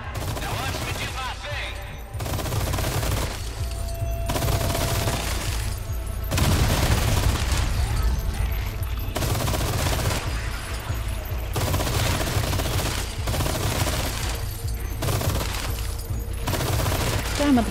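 Dense, sustained gunfire in Resident Evil 4 at the Cliffside Ruins, loud bursts of automatic shots and booms repeating in rapid clusters across the whole stretch, with brief lulls between volleys.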